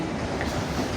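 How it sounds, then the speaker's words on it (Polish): Pendolino train at a railway station platform in Gliwice: a dense, steady rumble of rolling train noise with no clear individual clicks, close and fairly loud, with no speech. "pociąg Pendolino"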